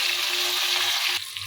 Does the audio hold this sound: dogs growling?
no